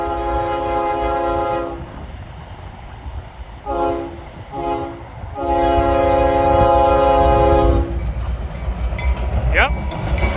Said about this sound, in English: Well, we got a train coming.